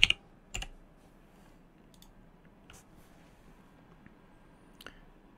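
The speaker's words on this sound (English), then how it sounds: "So we're going to press start, type in control panel." A few sparse, quiet key clicks on a computer keyboard while typing on a Windows 11 computer, separated by long near-silent gaps in a still room.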